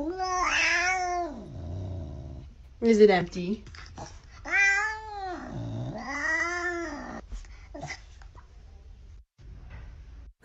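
A cat meows several times close up, drawn-out rising and falling cries separated by pauses, while someone talks in between.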